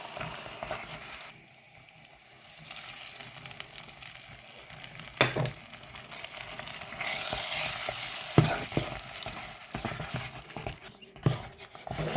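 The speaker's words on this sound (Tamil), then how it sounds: "இப்போ எல்லாத்தையும் வடிவாக கலந்து விடுவேன்" Red rice sweet pongal cooks in hot ghee with cardamom, giving a steady sizzle under repeated scraping and stirring strokes of a spoon against the pot, with occasional knocks, close and moderately loud.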